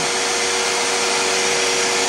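A vacuum forming machine runs with a loud, steady broadband rush like a vacuum cleaner or blower, holding constant throughout with no talk.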